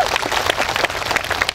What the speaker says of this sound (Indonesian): Tepuk tangan untuk Pak Bupati.